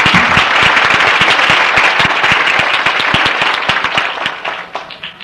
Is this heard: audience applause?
yes